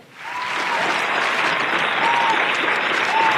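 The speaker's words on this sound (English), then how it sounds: "Clap your hands." A studio audience applauds for a talk show, a steady dense wash of many hands clapping that swells in and holds loud throughout, with a few faint whistles or cheers mixed in.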